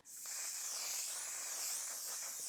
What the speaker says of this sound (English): I'm gonna spray this on my face right now, and I like it because it's an actual mattifying setting spray.